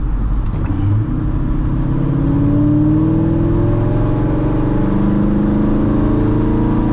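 A 500 HP C6 Corvette accelerating hard with traction control off, loud close engine roar with the pitch climbing steadily through the gear, no talking.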